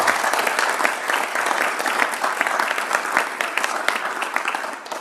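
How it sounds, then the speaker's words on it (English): A board of education meeting audience gives a round of applause, a loud, dense roll of clapping from many people that runs steadily and begins to thin at the end. "Let's give him a round of applause."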